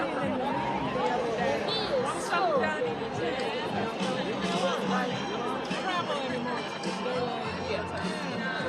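Steady crowd chatter at a library groundbreaking on Main Street in Loganville, many overlapping voices in a continuous outdoor babble with no single voice standing out.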